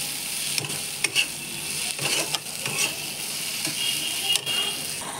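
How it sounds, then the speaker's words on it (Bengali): Spice masala fries in oil for a pomfret curry, a steady sizzle broken by repeated scraping strokes of a spoon or spatula stirring the pan, close and fairly loud with no talk. "তো মশলাটাকে এখন ভালোভাবে কষিয়ে নেব যতক্ষণ না তেল ছাড়ছে।"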